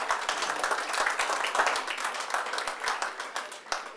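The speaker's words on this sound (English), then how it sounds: "let our police officers, thank you for your presentation tonight, and round of applause" People at a city council workshop clap for police officers after their presentation, a modest roomful of applause with distinct individual claps audible, steady and fairly near.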